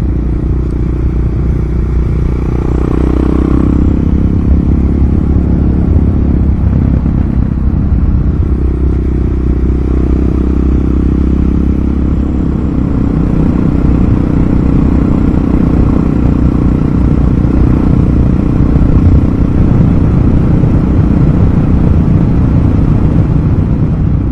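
A Suzuki Boulevard motorcycle rides along the coastal Great Ocean Road, its engine a loud continuous rumble mixed with heavy wind buffeting, sustained and close throughout.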